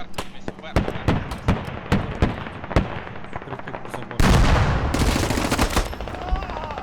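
Gunfire in the tactical shooter game Squad. Sharp single shots ring out in an irregular rhythm, then a loud, dense burst of rapid fire takes over.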